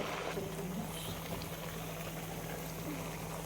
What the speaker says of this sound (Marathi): हे बघा तर छान तळायला लागला